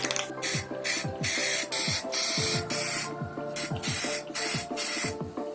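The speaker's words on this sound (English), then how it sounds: "I'm going to be using this right here, the Rust-Oleum primer. It's a filler and a sandable." Rust-Oleum filler primer sprayed from an aerosol can onto 3D-printed lightsaber parts, in repeated loud hissing bursts of about half a second to a second each, separated by short gaps, with a steady low hum underneath.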